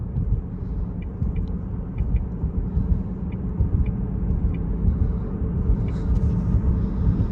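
Steady low rumble inside a Chevy Volt electric car under way, a soft, even hum with faint road noise and a few tiny ticks, no voices.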